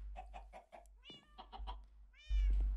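A Minecraft cat meows several times in a row, fairly close and clear, with a louder drawn-out meow at the end.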